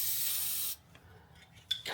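Spray paint hissing from an aerosol can over a stencil on a Triumph Bonneville motorcycle seat, a loud steady blast that stops abruptly, followed by faint clicks and a brief short spurt, with no talking.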